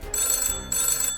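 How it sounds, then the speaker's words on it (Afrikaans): An old telephone bell rings in two long, loud metallic bursts with a short silent gap between them, close by in a classroom and with no talk over it. "Dis nie 'n foon nie. Dis 'n historiese kommunikasietoestel, ontwerp deur Alexander Graham Bell."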